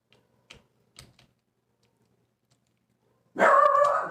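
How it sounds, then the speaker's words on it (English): Several sparse clicks, like keyboard typing, then a sudden loud burst of dog barking near the end. "dogs went crazy"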